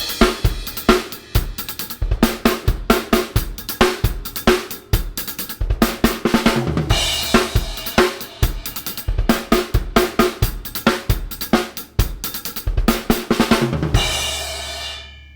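A drum kit plays a fast drum and bass groove, a dense stream of sharp snare and kick hits with hi-hats, looped several times with a crash cymbal ringing out at the end, loud and close with no voices.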